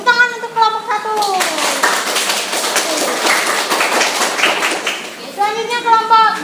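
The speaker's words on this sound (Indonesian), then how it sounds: "Tepuk tangan untuk kelompok 1." A school class claps for a group of students, a burst of loud clapping in the middle, with children's and adults' voices talking before and after.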